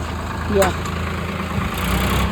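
A tractor engine idles with a low, steady diesel rumble close by during a first-time driving lesson in a field, while people talk over it.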